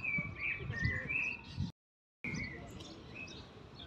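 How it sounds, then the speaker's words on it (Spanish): Small birds chirp and tweet faintly in an outdoor setting, with brief high calls repeating over quiet background hiss and a short dropout of silence partway through. "Mirad qué ruido más bueno con los pajaritos."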